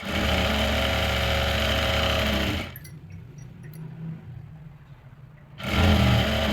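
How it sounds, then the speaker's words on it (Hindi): A sewing machine stitches around a dhoti salwar with a loud, fast, steady mechanical whir and chatter. It stops for about three seconds of quiet, then starts up again. "पक्का करने के बाद अब पूरे राउंड में सिलाई लगा देंगे ऐसे ही"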